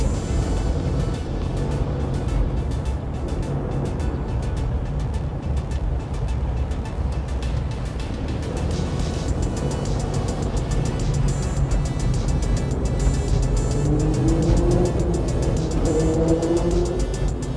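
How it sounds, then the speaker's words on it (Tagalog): Steady road traffic on a cramped single-lane street in Quezon City, a continuous broadband rumble of passing cars and engines with faint hiss, fairly close and unbroken throughout, no clear speech. "Ay talagang ma-traffic nga dito."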